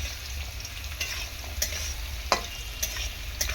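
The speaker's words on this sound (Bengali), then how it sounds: "আলুটাকে ভালো করে ভেজে নেব" Potatoes frying in a pan for a lote fish and potato curry, giving a steady low sizzle with a few sharp scraping stirs and clinks. No one talks.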